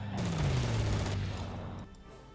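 Strafing gunfire in the WWII strategy game Rommel during a battle at Warsaw: a dense, continuous burst of synthetic shooting with a falling engine-like tone beneath it, loud and unbroken, fading slightly at the end.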